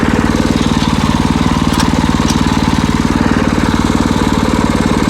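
A Husqvarna TF 230 tiller on 4.00-8 wheels runs in second gear at minimum throttle, a steady, close, loud engine chugging in an even rapid rhythm throughout, with no speech.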